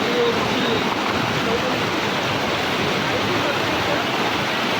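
Palasdari waterfall near Karjat roaring at full pressure during the monsoon, a dense, steady broadband rush of falling water filling the scene close by without a break.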